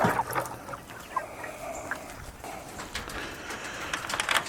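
Chickens and baby quail in a small flock, with a steady mix of soft peeps, chirps and clucking calls close by, a few sharper bird cries standing out against a busy rustling background.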